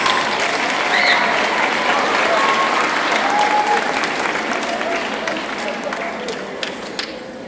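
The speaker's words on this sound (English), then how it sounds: "One more round of applause for these guys, please" A long, steady round of applause from a crowd at a school awards ceremony, loud and dense at first, then thinning slightly toward the end with a few sharper claps.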